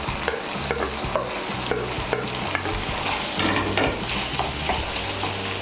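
Egg stirred into chicken bharta frying in a pan, a steady hiss of sizzling under rhythmic scraping strokes of a spoon, close up and continuous with no talking.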